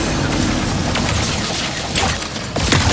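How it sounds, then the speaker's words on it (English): Shatter Bomb frag grenades detonating in the Ratchet and Clank video game, a dense, loud, continuous stretch of booming blasts and crackling debris with sharper bursts near the end. "The Shatter Bomb is a frag-type grenade that deals a lot of damage to your foes."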